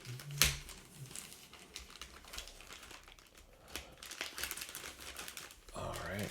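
Taped plastic shipping bag for comic collectibles being pulled open by hand: close crinkling and crackling plastic with tape tearing, a sharp pop near the start, over a faint voice in the background.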